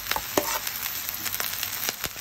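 Rice and vegetables fry in a pan for beef fried rice, a soft continuous sizzle with a few quick scraping stirs, fairly quiet and close.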